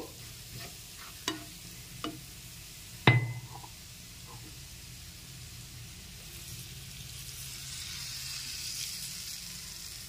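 Butter garlic chicken being stirred in a pan after a cup of water is added, with a few sharp utensil knocks against the pan early on, then a soft steady simmering hiss.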